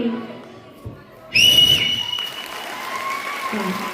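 At a women's game event, a referee's whistle is blown sharply in one sustained loud blast, and the crowd applauds and cheers during and after it.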